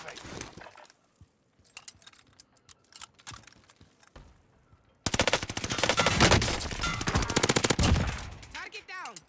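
Gunshots from an OTS 9 build in Call of Duty on Rebirth Island. Scattered shots and keyboard-like clicks come first, then a loud sustained burst of rapid automatic fire in the second half, with a player talking.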